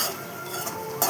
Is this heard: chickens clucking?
no